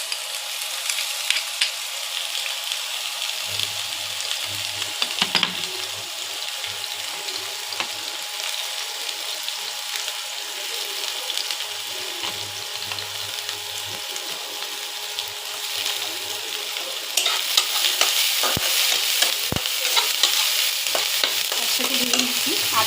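Ginger paste, garlic paste and chopped chilli fry in a pan with a steady, continuous sizzle, stirred now and then, and the sizzle brightens and grows louder near the end.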